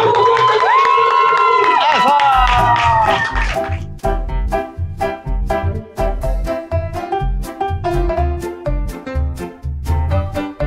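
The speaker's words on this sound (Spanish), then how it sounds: "¡Fuerte, fuerte el aplauso!" Children at a foundation in Santo Domingo cheer and shout loudly together for several seconds, then a rhythmic music beat with steady thumping pulses takes over.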